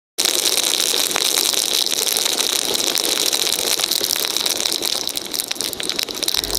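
Motorcycle running through a flooded street in Manila during a typhoon, a loud, steady, rattling engine drone with a buzzy high whine, close and continuous, no talk.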